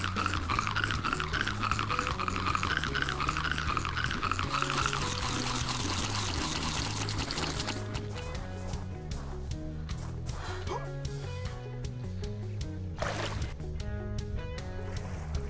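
Swimming splashes and churning water from ARK: Survival Evolved, a continuous sloshing wash that stays steady throughout, with a faint voice or two underneath.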